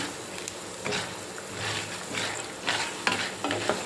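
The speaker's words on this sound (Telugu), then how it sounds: "సిమ్లో పెట్టుకుంటే మంచిగా ఈవెన్గా వేగుతాయండి అన్నీ" Urad dal and chana dal frying in a pan over a low flame for peanut chutney, a soft steady sizzle broken by repeated scraping stirs of a spoon, close and without talk.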